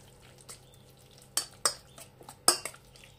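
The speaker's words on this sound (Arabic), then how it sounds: "دابا غادي نخلط باش كيتشرب هذا الموطارد" Chicken being stirred in a mustard marinade in a bowl, quiet wet squelching broken by several sharp clinks of a utensil against the dish, close and without talk.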